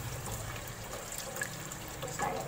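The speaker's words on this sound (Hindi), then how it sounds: "मैं इसमें डाल दूँगी पानी" Water pours into a pan of chicken curry masala with a soft, steady splashing and trickling sound under faint background noise.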